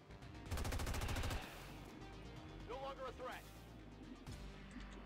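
Rapid gunfire from the strategy video game XCOM 2 crackles in a dense burst of shots early on, followed by quieter game sounds, reload effects and someone talking over the action.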